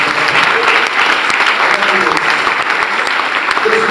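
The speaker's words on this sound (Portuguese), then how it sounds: "Dá um aplauso, graças a Deus." Applause from a church congress audience, dense and steady throughout with loud cheering voices mixed in.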